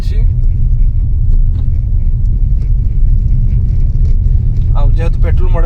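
Light road noise inside a Maruti Suzuki Brezza petrol top model car on the move, a steady low rumble with someone talking over it throughout.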